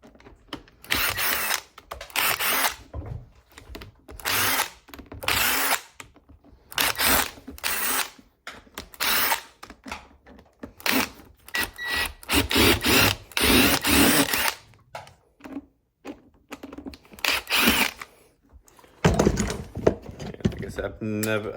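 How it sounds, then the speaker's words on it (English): A power drill backs screws out of a worn boot heel with a Vibram 100 sole, sounding in repeated bursts of whirring and ratcheting with short pauses between them, while someone talks in between the runs. "I'm gonna take these screws out."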